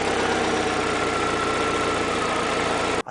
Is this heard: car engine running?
yes